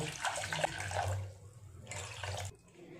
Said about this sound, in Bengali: এই বাটির মধ্যে জলটা রেডি করব।